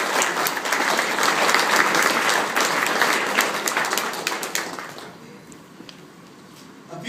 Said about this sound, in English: please give a round of applause to the Political Science Club for making this commencement ceremony possible